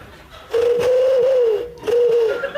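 A voice imitates a wood pigeon's soft, hooting coo: one long sustained call, a brief pause, then a shorter second call, close and clear.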